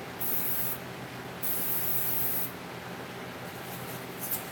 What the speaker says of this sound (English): my airbrush is right here.